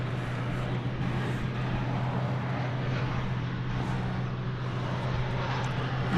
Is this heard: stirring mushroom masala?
no